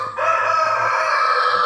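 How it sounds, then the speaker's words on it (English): Chickens on a home property cluck and a rooster crows loudly and close, one sustained call over soft low clucks, with no talk. "Excuse the chickens."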